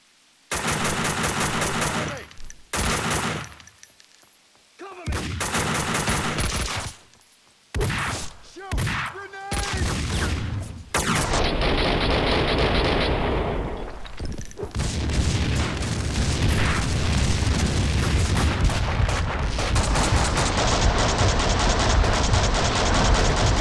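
Rapid automatic gunfire and heavy blasts as stored explosives detonate in the shooter game Max Payne 2, loud bursts broken by brief pauses, then a sustained dense roar of shots and explosions.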